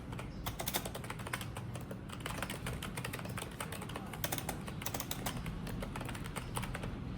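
Steady rapid typing on a computer keyboard during an online typing test, a dense run of close, crisp key clicks with no pauses and no talking.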